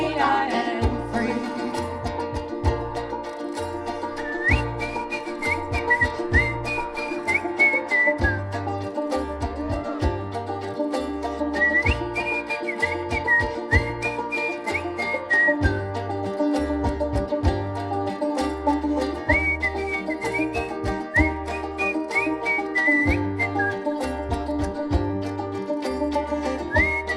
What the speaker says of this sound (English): How about that whistling?